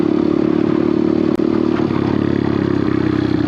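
A pit bike engine runs at a steady high pitch during wheelie practice, loud and close, with a brief clatter partway through.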